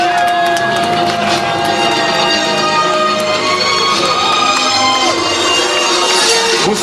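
A crowd cheers and applauds former Cameroonian footballers, a dense, steady roar of clapping and shouts that stays loud and continuous throughout, with scattered voices rising out of the mass.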